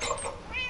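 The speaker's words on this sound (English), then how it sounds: "I have a cat." A cat in the video game Minecraft lets out a single short, drawn-out meow that is moderately loud against a faint background.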